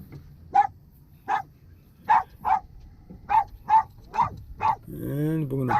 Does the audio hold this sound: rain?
no